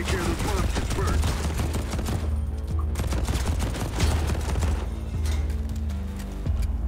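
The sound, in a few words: RPG fired at the player in the video game Deadcide Club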